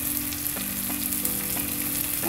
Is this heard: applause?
no